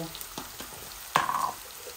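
Onions and dry whole spices fry quietly in a pot with a soft steady sizzle, and a brief louder stir or crackle comes near the middle.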